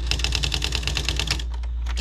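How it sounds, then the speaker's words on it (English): An electronic typewriter runs its demo mode and types by itself, firing rapid even keystrikes close up, then slowing to a few scattered clacks near the end. "And do the demo mode. Look how good it types."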